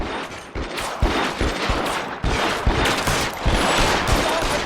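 Rapid gunfire in the game L.A. Noire, a dense fusillade of sharp close shots fired in quick irregular bursts, loud and continuous.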